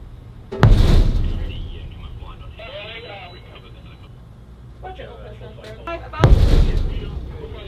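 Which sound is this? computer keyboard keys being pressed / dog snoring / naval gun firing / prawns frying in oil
naval gun firing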